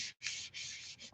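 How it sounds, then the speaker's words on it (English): Folded paper card rubbed firmly by hand during card making, soft close scraping strokes in a few passes with a brief pause near the start, quiet and alone. "I'm going to fold this down and rub it like that."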